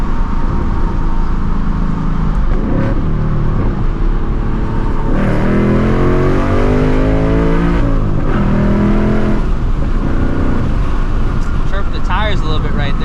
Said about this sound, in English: I just love the way these cars sound, man.